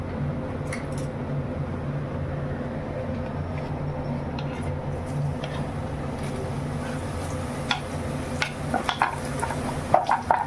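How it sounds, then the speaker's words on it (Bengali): Nimki dough pieces fry in smoking hot oil, a constant sizzling hiss with sharper crackles and pops building toward the end, close up and without talk. "এই যে আমি এখন একদম ডাইরেক্ট তেলের মধ্যে দিয়ে দিচ্ছি।"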